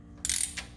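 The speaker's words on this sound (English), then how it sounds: "you can go ahead and use your ratchet" A ratchet snugging bolts on a 2001 Ford Ranger transmission gives a quick burst of close, bright metallic clicking that trails into a few lighter clicks, with no voice.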